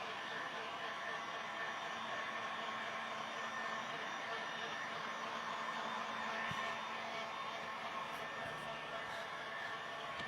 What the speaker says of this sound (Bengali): কাজটা হয়ে যাবে তৎক্ষণাৎ আমাদেরকে ড্রায়ার দিয়ে শুকিয়ে ফেলতে হবে